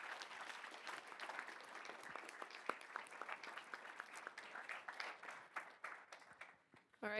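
Scattered, fairly faint applause from people at a school board meeting, crisp individual claps spread across the room and thinning out near the end.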